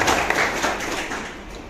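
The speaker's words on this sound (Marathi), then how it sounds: "जरांग पाटलांचा आपण आभार व्यक्त केला पाहिजे त्यांच्यासाठी टाळ्या वाजवल्या पाहिजे" A short burst of crowd applause at a Banjara community rally, dense and fairly loud, fading slightly over under two seconds.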